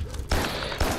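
Gunfire in the video game Carrion: two sharp, loud bursts of shots about half a second apart, each with a quick attack and lingering rumble.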